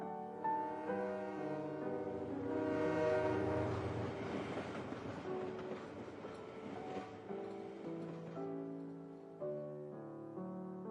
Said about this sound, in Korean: 다시 떠나가는 기차 소리가 완전히 사라질 때까지 그는 고개를 돌리지 않았다.